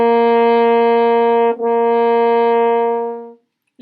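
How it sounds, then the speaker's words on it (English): A French horn sustains a bright, full note, briefly breaks, then carries on at the same pitch with a clean tongued restart, played close and alone before fading out. "So what you hear is that I'm breath attacking that first note."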